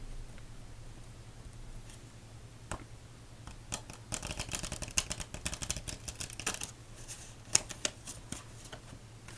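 Playing cards are shuffled quietly during a solitaire game, a burst of rapid riffling clicks and flutters after a few scattered taps, over a faint steady hum.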